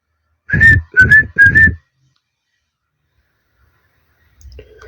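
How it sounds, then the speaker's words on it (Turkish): Three short, rising whistled calls in quick succession, clear and close, followed by silence and a faint low rustle. "Bu bir yaban tavuğunun sesi."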